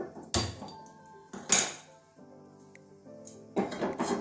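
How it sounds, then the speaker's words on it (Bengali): A metal wok is set onto a lit gas stove while a Bengali vegetable curry of cauliflower stems, potato and eggplant is being cooked; three separate clanks ring out close by, each leaving a brief metallic resonance. "কড়াইটা বসিয়ে দিচ্ছি,"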